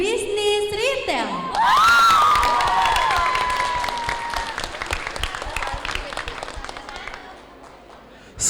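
Loud applause from a crowd at a school graduation farewell fills the room after an opening tone, with scattered cheers and a whistle-like sweep, slowly fading toward the end.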